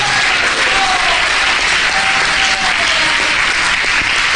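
Sustained applause from a church congregation praising God during a Spanish-language service, steady and loud throughout with a few faint voices rising over the crowd.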